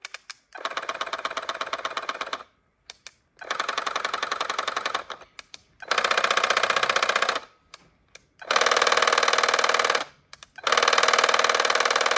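A Clawlab tufting gun runs in five rapid, buzzing bursts of roughly one to two seconds each while tufting a rug, with brief silent gaps between them.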